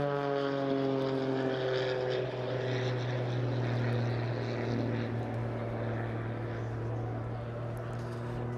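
A Pitts S-2S aerobatic aircraft at a flying display gives a steady, loud propeller drone with a strong, buzzing engine tone that holds evenly throughout.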